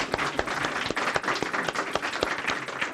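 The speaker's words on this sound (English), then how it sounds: "Please, a round of applause for Dr." An audience applauds a speaker, Dr. Soo Terry, at a policy event on North Korea, producing dense, steady clapping with sharp individual claps standing out across the whole stretch and no voices over it.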